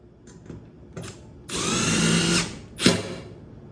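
A power driver tightening screws on a TV wall mount gives a few short buzzing bursts, then a sustained high whir of about a second, and a final brief burst, close and loud with no talking.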